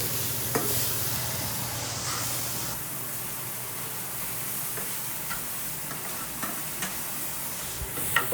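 Tomatoes frying in a pan on a gas stove in a home kitchen, a steady close sizzle and hiss with occasional light stirring clicks, no talking.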